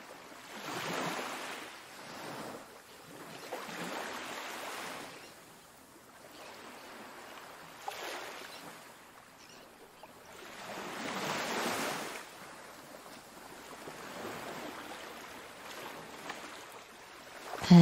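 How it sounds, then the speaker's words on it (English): Ocean waves wash onto a beach in slow, rhythmic swells, each surge rising and fading over a few seconds, soft and moderately distant with a faint breezy hiss and no voices. "The rhythmic sound of the waves becomes your guide"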